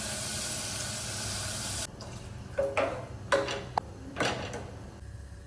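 Water poured into a pressure cooker of spiced potato rice with yogurt, turmeric, salt and chilli, in a home kitchen: a steady rushing pour for about two seconds, then a few short splashes and clinks.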